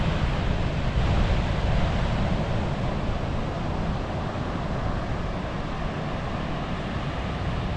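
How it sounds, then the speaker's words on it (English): Steady broadband wash of surf at Nine Mile beach in Belmont, Australia, rolling continuously with some wind rumble, no distinct breaks between waves, fairly loud and even throughout. "Nine Mile is a lovely beach located in Belmont, Australia"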